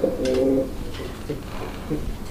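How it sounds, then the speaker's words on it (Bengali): Healthy pigeons coo nearby in soft, low, throaty bursts, one fuller call at the start followed by a few quieter coos, with faint background noise. "একদম সুস্থ সবল কবুতর ভাই"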